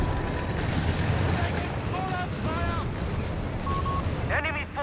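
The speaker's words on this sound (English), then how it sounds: "We got the Obicha barrage there." A Company of Heroes 3 battle rumbles with a barrage of booming impacts from an Italian Obice howitzer, mixed with gunfire and whistling shells, while a commentator talks over the dense, continuous din.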